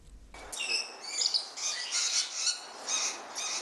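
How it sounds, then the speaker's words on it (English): Kaka parrots in an aviary at Queen's Park calling loudly and continuously, a dense chorus of harsh, high squawks and chirps overlapping one another up close. "The cacophonous call of kaka increased by 2 at Queen's Park aviary this week when a new breeding pair was introduced."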